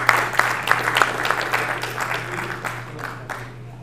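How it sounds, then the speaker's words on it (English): Audience applause at a blockchain summit in Gujarat, a dense patter of many hands clapping in a hall, loud at first and slowly thinning, with a steady electrical hum beneath it. "May we have a huge round of applause."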